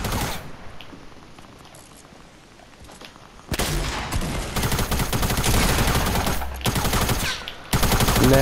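Fortnite gunfire in a 50v50 match, quieter scattered shots at first, then loud sustained bursts of rapid automatic fire with brief pauses between them.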